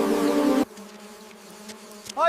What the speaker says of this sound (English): These are wild honeybees, and they're not aggressive unless threatened.